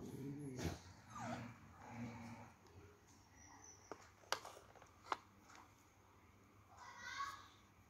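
A dog barks and growls fiercely in loud, harsh bursts close by, with whimpers and a voice between the outbursts and a few sharp knocks near the end.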